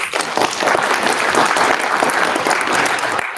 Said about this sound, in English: Let's give a round of applause for all our speakers.